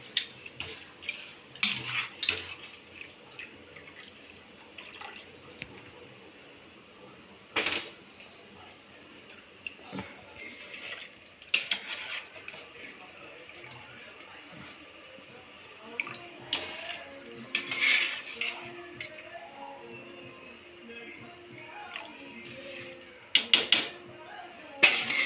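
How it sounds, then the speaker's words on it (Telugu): Rice goes into a pot of boiling water seasoned for chicken dum biryani, with close splashes, clinks of a metal pot and utensils, and pouring water in irregular bursts, no talk. "ఇప్పుడు రైస్ వేసుకోవాలండి."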